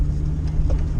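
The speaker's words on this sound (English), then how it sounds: "You can hear that exhaust leak right now" A Ford Mustang engine with an exhaust leak idles with a steady low drone and a slightly uneven, puffing rumble, close and continuous throughout.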